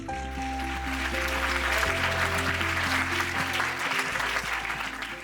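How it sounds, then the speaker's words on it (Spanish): An audience at a Spanish-language orientation session gives a speaker a loud, sustained round of applause, a dense wash of clapping over steady background music. "Recibamos con un fuerte aplauso a Prasant Nadulkandi."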